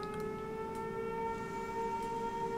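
Siren Head's drawn-out, droning siren wail from a video game trailer, steady layered tones sustained throughout at moderate level with faint scattered clicks.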